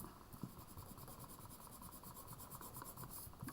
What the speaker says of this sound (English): on the edge of your eraser going flat all the way across your design